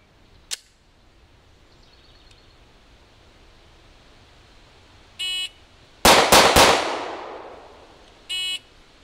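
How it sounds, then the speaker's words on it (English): Pistol shots fired at a target come as a quick string of three loud, sharp cracks with a brief ringing tail, preceded and followed by electronic shot-timer beeps. "So now I'm going to reshoot this stage using a flash sight picture"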